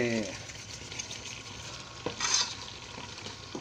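Thai green curry paste frying in thick coconut cream, a soft bubbling sizzle with the scrape of a spoon stirring and a brief louder burst, fairly quiet and close.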